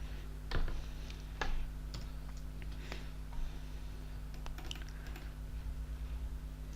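Quiet, sparse keyboard taps while writing VB.net code for a payroll program, a handful of irregular clicks over a steady low electrical hum, with no talking.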